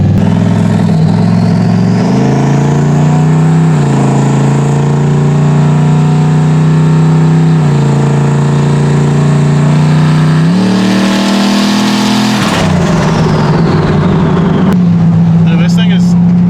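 A modified turbocharged truck driving on low boost, its engine droning loud and close with pitch climbing and dropping through several gear changes, and a brief burst of rushing noise near the end.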